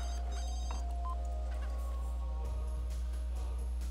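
A telephone rings in the video game The Sims 3, a faint repeating electronic ring over a low steady hum with no talking.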